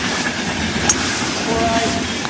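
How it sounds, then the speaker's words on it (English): Steady, broad rumbling rush like a passing train, heard in a golf video game set at the British Open, continuous and fairly loud for the full stretch with a brief brighter swell partway through. "Is that a train sound or something?"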